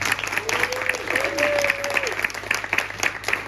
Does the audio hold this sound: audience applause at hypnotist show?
yes